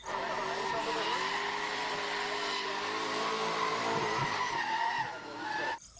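A toy race car skidding effect plays as a sustained, whining tire squeal with a revving, engine-like tone, fairly steady for several seconds before cutting off abruptly.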